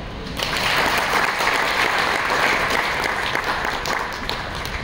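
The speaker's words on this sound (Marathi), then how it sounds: "पटलं तर जरूर टाळ्या वाजवा" An audience at a Marathi entrepreneurship talk bursts into applause, a dense sustained clapping from many hands lasting several seconds before slowly thinning.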